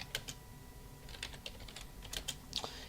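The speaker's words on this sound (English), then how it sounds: "I'm just going to type a little prompt here." Keys on a computer keyboard are typed in short, irregular bursts of clicks, close to the microphone and fairly quiet. No speech is present.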